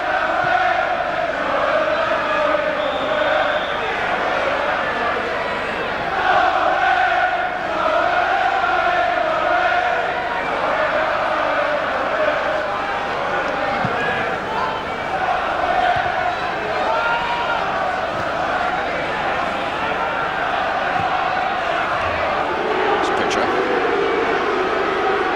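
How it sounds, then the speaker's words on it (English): Charlton Athletic supporters booing at a 1995/96 home match against Crystal Palace: a sustained, droning crowd roar fills the stadium steadily for the whole stretch, with a commentator talking over it. "The Charlton fans eventually will get tired of booing."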